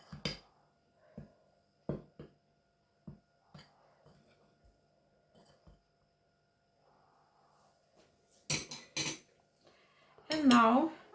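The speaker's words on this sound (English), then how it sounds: "so I mix it together with flour" Flour being mixed into butter, eggs and sugar in a bowl gives sparse, light utensil clinks and taps against the bowl, followed near the end by louder scraping and handling sounds.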